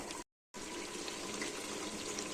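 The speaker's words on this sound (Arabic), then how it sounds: "توا باش نزيدوا الماء" Tap water runs steadily into a pot of Tunisian chicken and vegetable couscous sauce, a close, continuous pouring hiss that drops out briefly near the start, with no talking.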